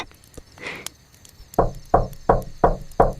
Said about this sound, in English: a soft knock came at her door. Tap, tap.